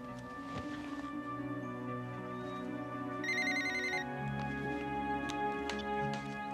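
A telephone rings indoors, a steady electronic ringtone with repeating tones over a faint background hum, heard alone without speech.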